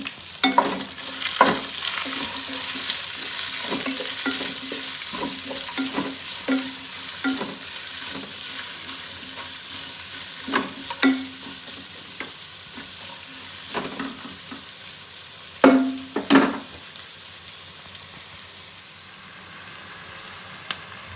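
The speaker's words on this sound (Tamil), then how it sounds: "ஆனியன் நல்ல கோல்டன் கலர் வரணும், அது வரைக்கும் வதக்கணும்." Onions sautéing in a pan for mutton biryani give a steady soft sizzle, broken by repeated sharp clacks and scrapes of a spoon stirring against the pan, some louder near the end.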